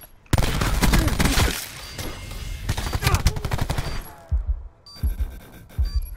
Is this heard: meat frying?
no